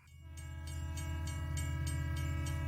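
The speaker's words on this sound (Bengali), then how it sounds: "এখন একটা ট্রেন আসছে, ঠিক আছে?" Near a train approaching, a low rumbling engine drone holds steady and builds gradually, with evenly spaced rhythmic clacks above it.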